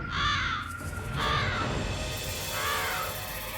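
A crow caws three times in slow succession, loud harsh calls spaced about a second apart over a low rumbling background, with no speech.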